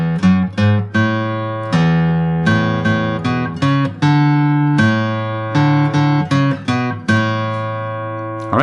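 Acoustic guitar plays the opening chords of a song's intro, with repeated strummed chords and picked bass notes in a steady rhythm. The playing is close and clear, with no talking.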